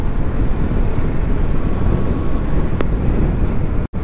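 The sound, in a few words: wind blowing past motorcycle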